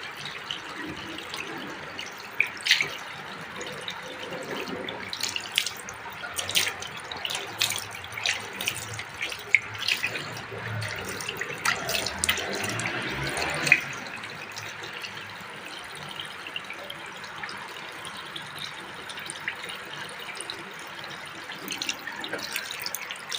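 Tap water runs steadily into a sink while someone gently washes their face, with soft splashes and irregular dripping over a continuous low flow.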